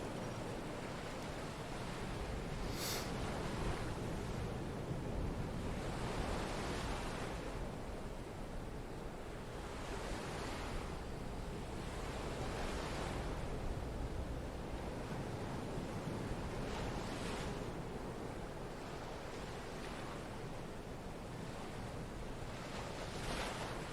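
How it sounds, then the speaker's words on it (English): Sea waves in the Hitman video game, a continuous surf wash with gentle swells surging and receding every few seconds, plus wind-like hiss and a short bright tick near the start. "Thinking about the swirling sea."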